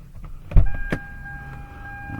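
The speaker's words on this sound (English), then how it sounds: "I'm going to roll this window down" A car power window motor whirs briefly as the glass moves, a short close mechanical hum after a thump, on a 2001 Toyota with a 4.7-litre V8 and engine off.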